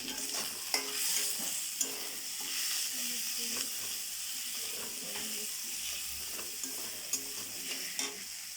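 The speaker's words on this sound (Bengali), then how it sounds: "আর চেরা কাঁচা লঙ্কা দিয়ে ভালো করে নাড়াচাড়া করতে হবে।" Onion frying in a pan with salt and slit green chillies, stirred steadily: a continuous close sizzle with scraping spatula strokes and occasional knocks, no talking.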